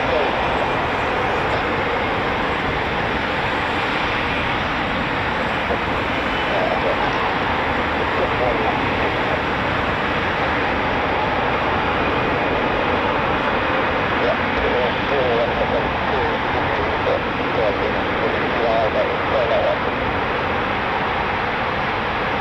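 Eurofighter Typhoon FGR4 jet taxiing: a steady, loud broadband jet roar holds throughout without clear change, a constant engine wash close by.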